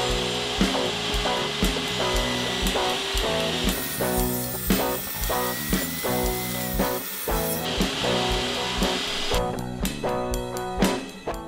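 A table saw cuts 25 mm thick wooden boards with a loud, continuous whining buzz that runs for the whole stretch, shifting slightly in pitch as the wood feeds through the blade.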